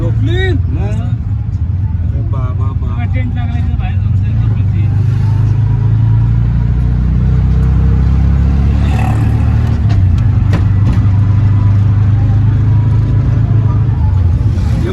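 A close, loud motor drone from inside a moving auto rickshaw runs steadily the whole time, with faint clatter and a voice or two among the crowds near the Vitthal Rukmini temple during the wari pilgrimage.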